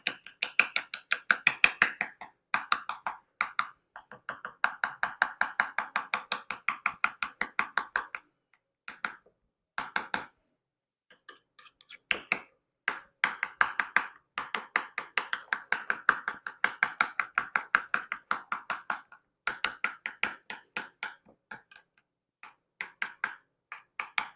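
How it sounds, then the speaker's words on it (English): A spoon is stirred briskly through yogurt, avocado, honey and cinnamon in a bowl, making rapid, rhythmic clicking and scraping strokes in long runs, with brief pauses between bursts. "Mix it all up real good."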